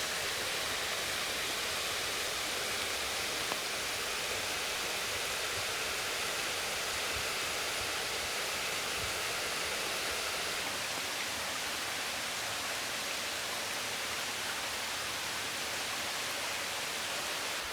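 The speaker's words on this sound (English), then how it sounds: "so say goodbye to Buttermilk Falls" Buttermilk Falls in Cuyahoga Valley National Park pours as a steady, even rush of falling water, a continuous hiss heard alone from nearby.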